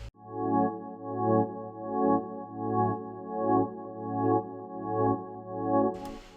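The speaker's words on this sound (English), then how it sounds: "I pasted the exact same chords into this Wafting Organ Xenology preset." Chords on the Wafting Organ Xenology synth preset with added reverb, swelling and pulsing in a regular wavering rhythm, sustained and alone, ending with a brief burst of noise.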